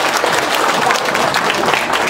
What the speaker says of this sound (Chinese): 给老朱一点掌声